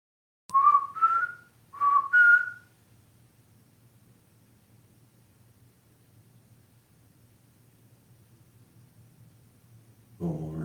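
A few short whistled notes ring out in quick succession, a rising two-tone pattern repeated, then quiet low hum until a rustle at the end.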